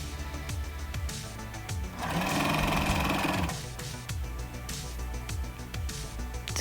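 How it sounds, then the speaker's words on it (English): A sewing machine stitching piping lines on a maxi dress, with close rapid mechanical whirring in a steady burst, framed by handling clicks and fabric movement. "Put both of the piping lines together carefully and sew them."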